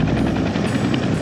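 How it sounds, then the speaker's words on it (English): A helicopter flies overhead above a mountain peak, its loud rotor chop a steady, close, continuous throb with no other sounds. "There's the helicopter again."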